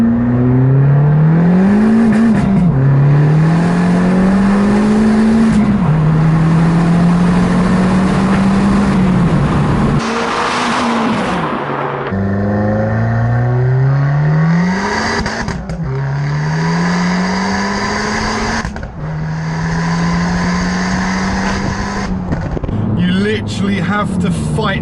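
Modified big-turbo Abarth 595 with 225 BHP accelerates hard on a national speed limit road, exhaust and engine rising in repeated loud pulls through gear changes, with someone talking over the drone.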